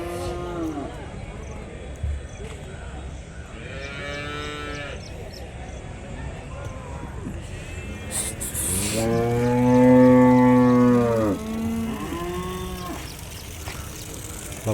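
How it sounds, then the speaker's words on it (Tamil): Cattle low and moo repeatedly at a Kunthirapalli livestock market where cows, bulls and Kangayam calves are sold, several calls overlapping, one long loud moo standing out over a busy crowd background. "பசுமாடுங்கள்லாம் பாருங்கள், காலையில் சேல்."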